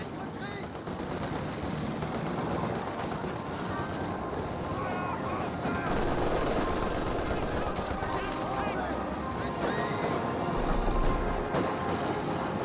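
Machine gun and rifle fire rattle through a World War II strategy game battle in the Company of Heroes style, in bursts that run steadily under continuous excited commentary.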